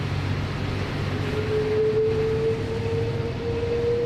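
Rolls-Royce Trent jet engine on an airliner at Sydney Airport in heavy rain, a steady distant roar with a thin rising whine gradually emerging over the noise.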